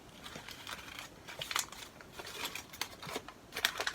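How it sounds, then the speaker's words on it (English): A wrapped advent calendar item is unwrapped close up with quiet paper crinkling and tearing, in scattered rustles and sharper crackles. Nobody speaks. "I do love unwrapping."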